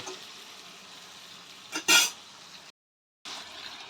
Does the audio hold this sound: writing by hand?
no